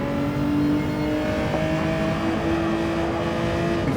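A race car engine in a sim racing game drones loudly and steadily at high revs on the Sardegna circuit, holding a sustained whining tone with slight pitch shifts between gears, with no voices.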